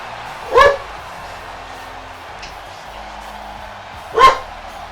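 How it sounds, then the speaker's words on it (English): A dog barks twice, a sharp close bark near the start and another a few seconds later, with quiet background in between. "That's what he was barking for."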